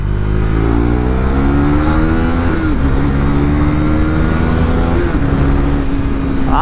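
A KTM motorcycle exhaust revving loud and close, the engine note rising steadily in pitch as it accelerates, with a brief dip before climbing again.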